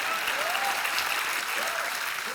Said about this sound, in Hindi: एक बार हेलन जी और आशा जी के लिए जोरदार तालियां हो जाएं।